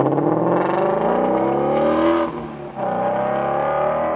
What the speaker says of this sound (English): the firing order with the flat plane crankshaft combined with our exhaust manifolds and the vehicle exhaust system provides a very, very unique sound.